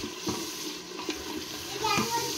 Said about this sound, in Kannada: ನಾನು ಪೇಸ್ಟನ್ನು ಹಾಕ್ಕೊಳ್ತಾ ಇದ್ದೀನಿ. ಇದು ನೀಟಾಗಿ ಎಣ್ಣೆಯಲ್ಲಿ ಫ್ರೈ ಆಗಬೇಕು.